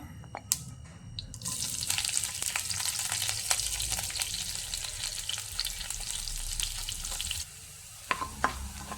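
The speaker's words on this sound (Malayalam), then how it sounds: "കടുകെല്ലാം പൊട്ടിക്കഴിയുമ്പോൾ അതിലേക്ക് ഇഞ്ചി ചതച്ചതും വെളുത്തുള്ളി ചതച്ചതും ഉള്ളി ചതച്ചതും ഇട്ട് കൊടുക്കാം" Crushed ginger, garlic and onion hit hot oil with popped mustard seeds and sizzle loudly and steadily, with a few stirring clicks, before the frying cuts out and a couple of faint knocks follow.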